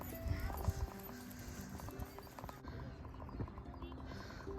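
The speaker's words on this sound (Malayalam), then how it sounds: "ഇത് ആദ്യമായിട്ടാണ് ഞങ്ങളുടെ അടുത്തേക്ക് ഒരു കുതിര ഇങ്ങനെ വരുന്നത്" Horse approaching on foot with a steady clip-clop of hooves, fairly close, mixed with rustling and background voices talking intermittently.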